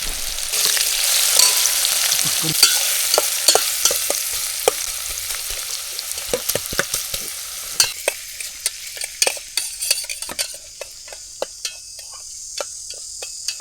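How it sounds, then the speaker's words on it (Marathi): Onions and paneer sizzle and fry in a pan while being stirred during outdoor cooking of veg paneer biryani on a hill fort, with a loud hissing fry and scattered sharp scraping and clinking spatula strokes, no talk. "कांदा आपल्याला गोल्डन कलर येईपर्यंत भाजून घ्यायचा पनीर मिक्स केला"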